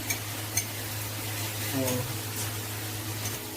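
Garlic, onion, dried chili and bay leaf fry in oil in a pot, with soft sizzling, a few utensil clinks and stirring scrapes beneath a steady hum while someone talks.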